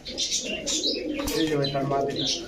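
Giribaz, coloring and racer pigeons coo steadily at close range, a continuous layered murmur of several birds with faint chirps mixed in, loud and unbroken throughout.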